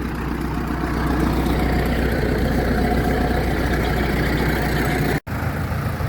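Steady, loud running of a Fortschritt ZT303D tractor engine on a farm outing, a continuous low diesel rumble that holds even before a brief dropout near the end.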